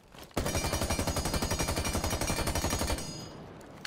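Rapid automatic gunfire from Thunderbird's gun in Rainbow Six Siege, a loud sustained burst of evenly spaced shots for about two and a half seconds, then fading to quiet.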